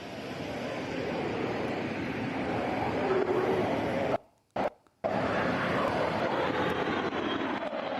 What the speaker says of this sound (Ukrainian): а ще кілька винищувачів щойно промайнули над головами е, президентів